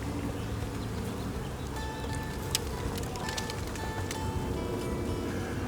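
Worker honeybees swarm through an open, active hive during a hive split in Northern Nevada. Their buzzing is a continuous, close drone, with a few louder individual bees passing near.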